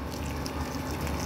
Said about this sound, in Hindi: मैं इसमें पानी ऐड कर देती हूँ थोड़ा और सा